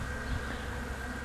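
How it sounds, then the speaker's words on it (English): Honeybees buzzing in a seven-frame hive box in January, a steady close-up hum of many wings with no voices over it. "Pretty good little box of bees for January."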